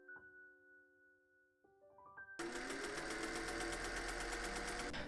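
A sewing machine runs at a fast, even whirr while stitching a dress bodice to its skirt, starting after a few soft musical tones and then holding steady and close.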